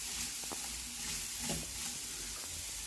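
Carrot pieces with turmeric stirred in a cooking pan for carrot pesarapappu curry, with a soft steady sizzle and a few scraping stirs.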